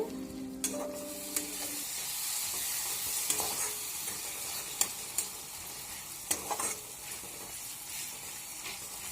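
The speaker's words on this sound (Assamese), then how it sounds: "বিলাহীখিনি গলিব ধৰিছে আৰু মছলাৰ পৰা তেল ওলাইছে" Tomatoes and spices frying in a pan, a soft steady sizzle with occasional spoon scrapes and clinks as the mixture is stirred, close and moderately quiet.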